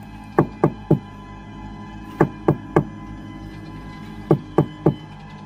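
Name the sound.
knocking on a house door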